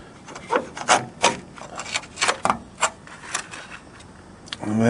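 A 13 mm socket ratchet clicks and rasps in uneven bursts while working loose the bolts holding the fuel filter on a 1992 Ford Ranger, close and fairly loud, with a faint voice at times.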